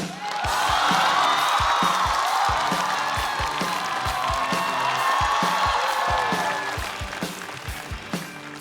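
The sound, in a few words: audience applause for a stand-up comedian coming on stage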